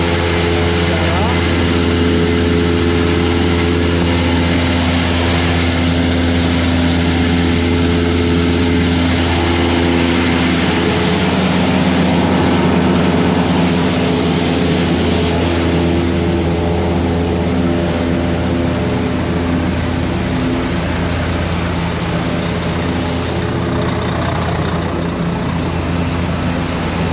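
A farm loader's engine runs at a corn silo, a steady, loud, low drone that holds without a break from start to finish.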